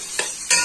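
A small onion hits hot oil and sizzles for Egyptian koshari sauce, two bright bursts of frying hiss rising close and loud over a steady background sizzle.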